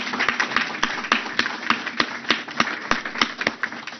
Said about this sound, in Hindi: भरपूर तालियां लगाकर इनका शुक्रिया अदा कर दीजिए